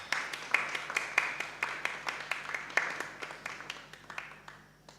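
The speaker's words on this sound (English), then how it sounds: "Cynthia, let us give her a round of applause." An audience at a community safety summit claps steadily in a quick, even rhythm, the applause gradually fading out toward the end.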